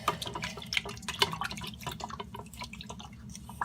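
A homemade potion of liquid mixed with powder, with only a few bubbles, is stirred. It gives a steady run of small wet drips, plinks and sloshes, close and fairly quiet, with no talking.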